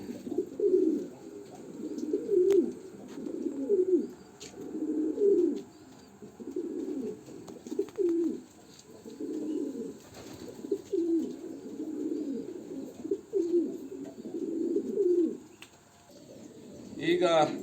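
Racing pigeons at a loft coo in a steady, rhythmic series of soft, throaty phrases about a second apart, close by and continuing throughout.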